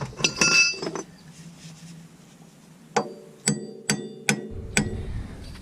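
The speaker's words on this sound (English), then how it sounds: "Then I'm going to use a punch to finish it." A hammer strikes a metal punch to drive a bolt out of the axle assembly of a 1988-1991 fourth-generation Honda Civic, giving a run of sharp, ringing metallic clinks at close range, preceded by a few scraping knocks.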